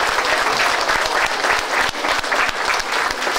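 A dense round of applause greets student recipients at a November 2014 Allie award ceremony. The clapping is loud and steady throughout, with a few sharper claps standing out near the front.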